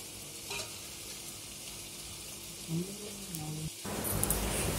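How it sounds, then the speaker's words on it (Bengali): Ingredients for chicken soup frying and being stirred in a pan, a steady soft sizzle with a few scraping stirs, growing louder and brighter near the end. "এরকম করে আমি ভালো করে, খুব বেশি ভাজতেও হবে না, আর খুব ভালো করে নাড়াচাড়া করে নিচ্ছি"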